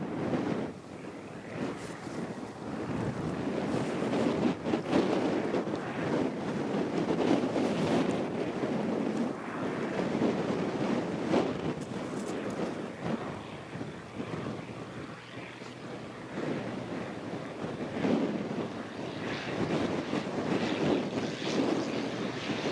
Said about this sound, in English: There's a pretty good crosswind from right to left.